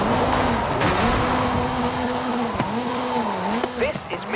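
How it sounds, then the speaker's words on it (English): Ford Focus RS RX Hoonigan Gymkhana 10 car, 2-litre turbocharged front-mounted engine, in the Forza Horizon 5 video game, revving up and down in rapid repeated swells under someone talking. "This is Mr. Kenneth Block's Hoonigan Gymkhana 10 Ford Focus RS RX."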